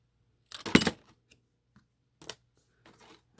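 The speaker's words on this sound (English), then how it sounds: "So I'll go ahead and cut off all the fraying so it doesn't show." Scissors snip frayed ribbon ends at close range, one louder crisp cut followed by a couple of quieter snips and faint handling rustles in a quiet room.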